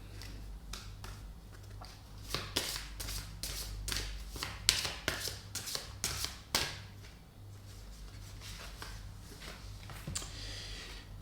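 Oracle cards shuffled and drawn by hand, a run of soft crisp taps and riffling flicks in a quiet room, steady and close with no talking.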